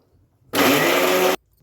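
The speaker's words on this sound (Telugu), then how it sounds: "కొంచెం గట్టిగా ఉంటే కొంచెం నీళ్ళు వేసుకొని మిక్సీ పట్టుకోవాలి." A short burst of a mixer grinder grinding sesame and jaggery with a little water, running loud and steady for under a second, starting and stopping sharply.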